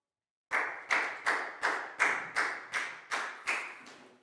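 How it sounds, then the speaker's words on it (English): Eight evenly spaced sharp claps follow a short silence in a classroom, each a crisp close slap with a quick decay, steady rhythm and no talk. "Big round of applause for Down"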